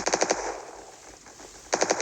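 Two rapid bursts of automatic gunfire in a shooting video game, one at the start and one at the end, loud and close with a quieter stretch between them.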